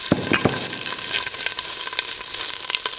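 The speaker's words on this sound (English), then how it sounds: "I'm going to sweat my onions and my carrots down" Onions and carrots sweating in olive oil in a heavy-bottomed pot, a close, continuous crackling sizzle with frequent sharp pops and stirring clinks.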